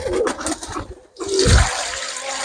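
Water splashes and gurgles as it is poured into a container for a pigeon bath, a brief close gush after a short pause, with pigeons faintly audible around it.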